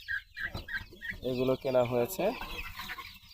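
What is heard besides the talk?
chickens clucking on a chicken farm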